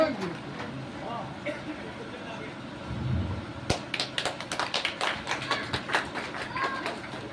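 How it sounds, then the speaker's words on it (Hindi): Scattered clapping from a crowd at a memorial gathering in Darbhanga, starting sparse and building into a burst of uneven claps amid background murmur and voices. "एक बार फिर से जोरदार ताली बजाइए आप लोग।"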